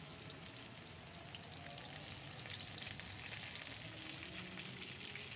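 Onions hit hot oil with dried red chillies and cumin, giving a dense, even, fairly quiet sizzle that holds steady throughout, no speech.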